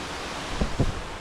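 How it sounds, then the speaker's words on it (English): Temurun Waterfall in Langkawi, Malaysia, a continuous broadband rush of falling water, steady and moderately distant, with a couple of brief low thumps partway through and no voices. "Look at that waterfall."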